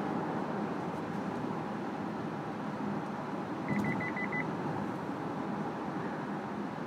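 A car's Lane Keep Assist warning sounds as a quick run of about six short, evenly spaced beeps, heard clearly over a steady hum of road and cabin noise while driving.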